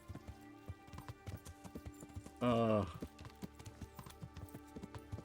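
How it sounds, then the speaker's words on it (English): Rhythmic clip-clop of horse hooves in a video game, ridden saddleless, a steady close trotting beat with a brief spoken word over it. "nowadays we got saddleless horse riding"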